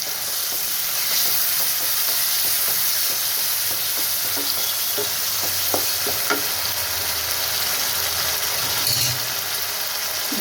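Yogurt stirred into biryani masala sizzling in hot oil in a pan, a steady loud fry hiss throughout with scraping stir strokes and occasional clinks, no voices.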